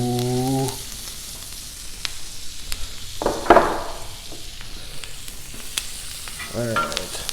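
Filet mignon sizzles in oil and butter on a Blackstone griddle, a steady loud frying hiss throughout with a brief burst of louder crackling midway, no talking.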